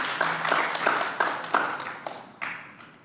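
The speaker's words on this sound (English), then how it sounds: "Let's give this guy some applause." At a developer summit talk, a small audience gives a short burst of scattered applause, a few distinct claps in an uneven rhythm that thins out and fades within seconds.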